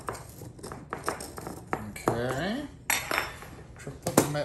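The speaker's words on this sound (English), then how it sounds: "run a knife around the edge to make sure it's free" A knife is run around the edge of a cake pan, making clinks, scrapes and metallic rattles of the pan close up, with a voice talking in between.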